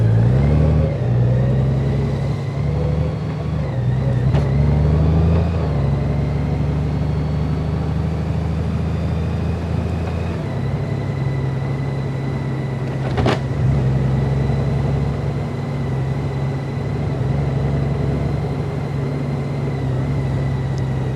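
A 2021 Honda Gold Wing DCT motorcycle cruising on a ride to the gym: a steady low engine drone with gear-shift dips near five and ten seconds, wind noise layered over it, and a brief sharp click partway through.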